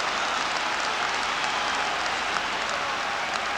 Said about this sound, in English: The crowd still recovering from that effort from Falco.